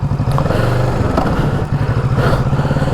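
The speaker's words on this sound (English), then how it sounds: "So we'll start the bike up," Motorcycle engine running loud and close, a steady low throbbing idle with clattering mechanical noise, during an Australian motorbike licence test.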